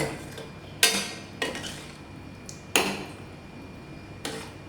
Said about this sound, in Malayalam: നല്ല കട്ട തൈരൊഴിച്ച് പിന്നെ ഇതൊന്ന് ഇളക്കാം